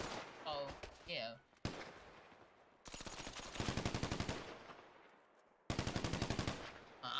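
Automatic gunfire in the GTA video game, rattling in rapid bursts with sharp repeated shots at close range, broken by short pauses; a voice is briefly heard at the start.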